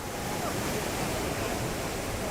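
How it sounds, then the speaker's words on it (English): Whitewater rapids on the Nile River roar as a continuous, broad rushing wash, loud and close without pause. "Way bigger rapids and not so many rocks, so super fun."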